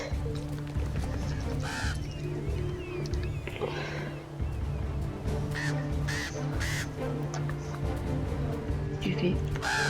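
Several harsh crow caws in the video game Star Stable ring out at intervals over a constant low ambient hum and people talking, the calls fairly loud and close.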